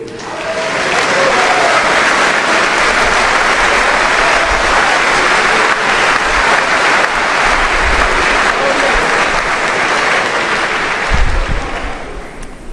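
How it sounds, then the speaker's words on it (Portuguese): A church congregation breaks into loud, sustained applause for the Lord during a sermon, dense clapping rising quickly and holding steady before fading slightly near the end. "a gente vai oferecer um aplauso para o Senhor"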